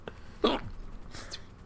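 A person with hiccups gives one sharp, close hiccup, followed a moment later by a softer breathy sound against a quiet background.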